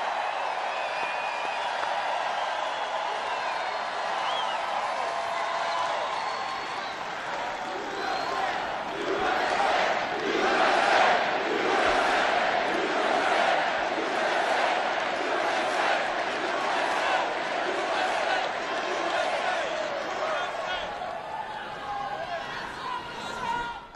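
A large crowd at a rally roars and cheers in a sustained, swelling wave that peaks midway and slowly fades, with a voice speaking over it at times.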